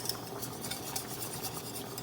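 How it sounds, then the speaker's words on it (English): Peanut butter sauce stirred in a pan with a utensil, a quiet, continuous scraping and clinking that repeats in a loose rhythm, close and alone without talk. "So we'll get this stirred up a little bit."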